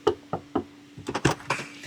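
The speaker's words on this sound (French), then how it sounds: "Allez, toc toc." Knuckles rap on a house door: three even knocks, a brief pause, then a quicker burst of knocks, close and distinct, with no talk.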